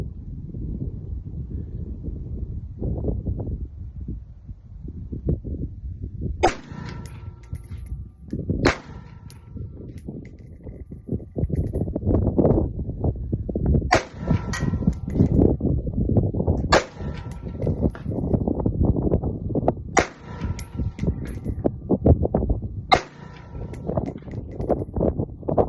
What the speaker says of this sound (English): So now I'm gonna shoot from the kneeling. Listen up for that bang.